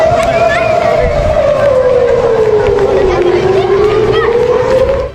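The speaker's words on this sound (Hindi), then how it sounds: "हवाई हमलों के अलर्ट करने वाले" A loud wailing air raid siren in Israel slides slowly down in pitch and then rises again, over a constant rumble of crowd noise and distant chatter.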